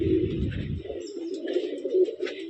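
Pigeons of a master pair coo steadily up close, a continuous run of low rolling coos with a rumbling thump at the start and faint higher chirps over the top.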